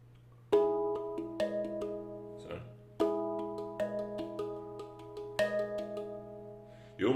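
A NovaPans handpan plays a slow pattern of ringing metallic tones struck by hand, with quieter ghost notes tucked between the main strikes. It sounds close and moderately soft, and each phrase repeats in a steady rhythm.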